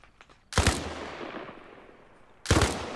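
Two heavy gunshots from the video game Arma Reforger, each a loud, close boom followed by a long rolling echo that fades over about two seconds, with faint softer pops before the first.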